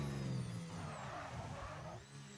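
A Formula 1 car in the racing game F1 25 holds a steady, fairly quiet engine whine through the final corner of the Austria circuit, the pitch shifting slightly as it heads for the line.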